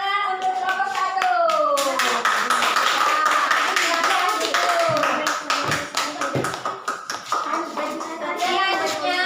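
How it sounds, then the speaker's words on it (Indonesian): Classroom of students clapping for the first group, a burst of applause that builds and then thins into scattered claps, with children's voices mixed in. "Sekarang tepuk tangan untuk kelompok 1."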